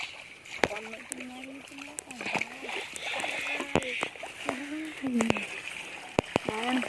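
People talk near water while several sharp splashes land at irregular moments, like a fishing net slapping the surface and sloshing.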